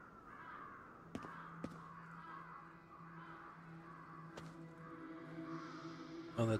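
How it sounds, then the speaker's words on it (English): Crows caw repeatedly in Ghostwire: Tokyo, faint and somewhat distant, with several calls spaced through the stretch over a quiet ambient backdrop. "Get over to where those crows are at."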